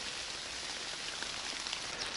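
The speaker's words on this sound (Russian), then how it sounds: "Ну вот, наконец-то дождь." Steady rain falls in a June forest during mushroom picking, a dense even hiss of drops with no talk.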